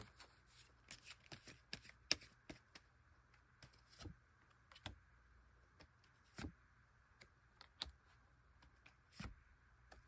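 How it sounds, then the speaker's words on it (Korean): Tarot-style advice cards being shuffled for a reading, a series of soft riffles and flicks at an uneven pace against a quiet room, close and light. "여러분들을 위한 조언 카드 뽑아보도록 할게요"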